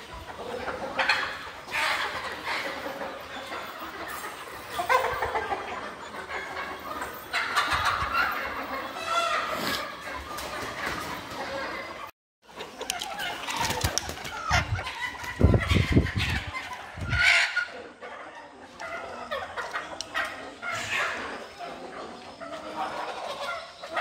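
Native country chickens raised on a farm cluck and squawk around their roost perch, a busy, uneven chorus of close calls that drops out briefly midway before resuming louder.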